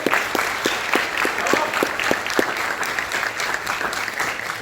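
Audience applause at a Chilean union and academic gathering, steady dense clapping throughout with a few sharp claps up front, and faint voices in the background.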